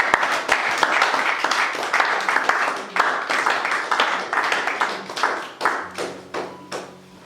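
A church congregation at a French-language worship service claps steadily and loudly together for about seven seconds, the applause thinning toward the end, with a few voices faintly mixed in.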